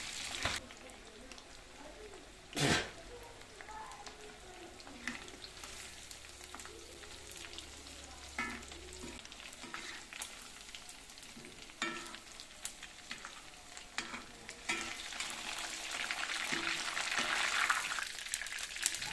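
Chicken pieces fry in hot oil for a Padang-style spiced chicken dish, a steady close sizzle with occasional clatters and stirring scrapes, building louder toward the end, while a voice speaks over it.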